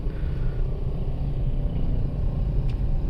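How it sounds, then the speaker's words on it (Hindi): A Maruti Suzuki Ignis drives along in second gear, heard from inside the cabin as a steady, loud low engine rumble with road noise and no talking. "अभी गाड़ी सेकंड गियर में चल रही है"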